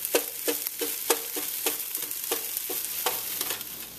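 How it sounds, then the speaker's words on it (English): Egg whites scrambled and chopped in a frying pan: a spatula taps and scrapes the pan in a steady rhythm about twice a second over a constant close sizzle, with no talking. "so we're getting the eggs nice and scrambled"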